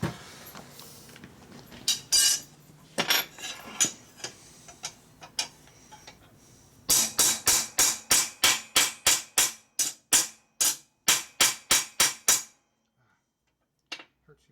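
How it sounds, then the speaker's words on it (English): A hammer strikes a 1942 Harley-Davidson WLA brake pedal being flattened on the bench, first in a few scattered blows, then in a fast run of about fifteen sharp, loud metallic impacts ending abruptly, with one lone tap after a pause. "the first thing we do is beat on with a hammer because it's more fun"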